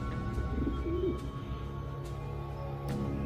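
Real doves in a stage magician's prop box give a soft warbling coo, faint and brief, under a low steady hum with a few light clicks.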